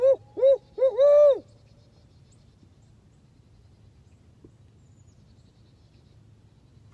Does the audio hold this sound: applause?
no